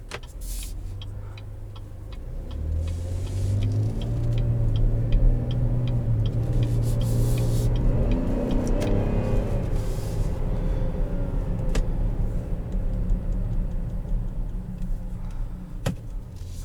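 A 2020 Chevrolet Traverse RS with the 3.6 engine and 9-speed automatic drives along, giving a steady low rumble of engine and road noise inside the cabin, rising slightly in the middle, with no talking.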